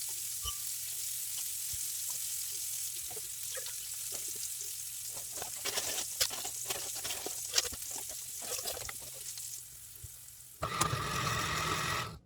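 Food sizzles and crackles steadily in a skillet warming on the stove, with scattered pops and stirring scrapes, then a louder burst of hissing near the end.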